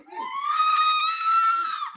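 Woman and her daughter screaming in terror during a carjacking in Chicago, one sustained high-pitched scream lasting about two seconds, loud and close with no talking over it.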